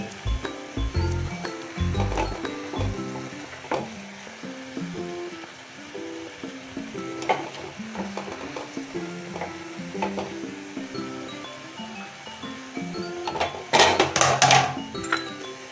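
Grated radish fries in a pan for a radish and tomato curry, with a soft sizzle under scraping spoon strokes and occasional metal clinks. A louder burst of stirring comes near the end, and quiet music plays beneath.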